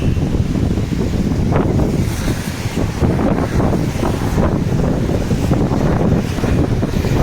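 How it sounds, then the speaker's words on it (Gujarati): Steady roar of wind buffeting the microphone over continuous surf washing onto the Mumbai shore, loud and unbroken throughout. "આ મુંબઈનો દરિયા કિનારો છે"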